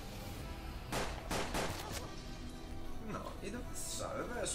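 Gunfire rings out in the turn-based Western game Hard West, several sharp shots cracking in quick succession, loud and close, followed by softer clatter and a brief high chime.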